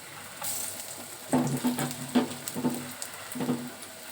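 Flattened lentil fritters (dal bora) fry in hot oil, a low steady sizzle broken by several sharper crackling bursts as the batter pieces go in.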